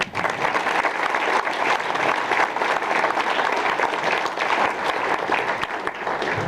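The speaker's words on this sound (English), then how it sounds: "Please give Debbie Webb a hand of applause." Sustained applause from an audience at an Indiana Soccer Hall of Fame ceremony honouring Debbie Webb, a dense, steady wash of many hands clapping for several seconds without a break.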